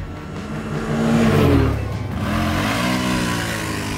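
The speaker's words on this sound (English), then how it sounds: "for the sake of testing, we pushed the CF-Moto to 107 km per hour on this stretch" A CF-Moto 1000 ATV on mud tires runs at high speed, about 107 km/h, its engine droning loud and steady with a rising and falling pitch and no voices.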